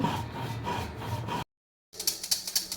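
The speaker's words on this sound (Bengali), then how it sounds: "আমি সেটাই করেছি পাটাতে বেটে নিচ্ছি" Fried spices ground on a stone slab, a steady rubbing and scraping rasp that runs for over a second, pauses, then resumes in brighter strokes. No talk.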